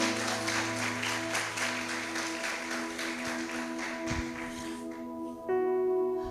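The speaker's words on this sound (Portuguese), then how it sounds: "aplauda o Senhor. Aplauda mesmo." Church congregation at a women's worship service clapping to praise the Lord, a rhythmic clapping over sustained organ or keyboard chords, the clapping dropping away near the end as a brighter chord sounds alone.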